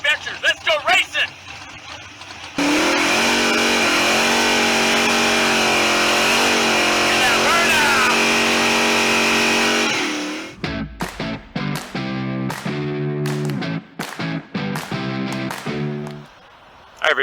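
Cutty race car engine revving loudly and steadily during track testing, with a sustained roar that swells and shifts for several seconds, followed by a voice speaking over sharp, choppy bursts.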